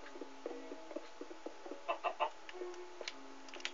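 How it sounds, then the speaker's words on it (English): A chicken in the Minecraft video game clucks in short, soft bursts, faint and spaced over quiet game sounds, with a few tonal blips in between. "There's always a chicken that gets in the way of building."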